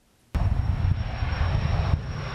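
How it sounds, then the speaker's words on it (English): A state-owned jet takes off from Concord Airport, a sudden loud, steady engine roar that starts abruptly and holds at a constant level, heard from fairly close with no voices. "The state jet took off from the Concord Airport last Thursday"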